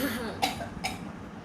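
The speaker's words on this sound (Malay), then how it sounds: "Amboi, tu batuk." Two sharp coughs about half a second apart, close and fairly loud, during a Qur'an recitation lesson.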